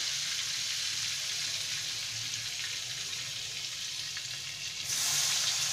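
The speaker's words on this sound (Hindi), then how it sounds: "बटर मेल्ट होने के साथ ही हम इसमें अनियन ऐड करेंगे।" Onions hit melting butter on a hot tawa, producing a loud, steady, close sizzle that swells slightly near the end.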